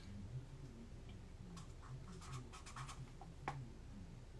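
A pen or pencil scratches and taps faintly across paper in short strokes and light ticks, close and quiet under a soft room background.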